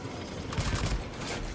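A short, fast burst of gunfire in the futuristic mobile shooter Cyberhunter, with several rapid cracks at moderate loudness over steady game ambience.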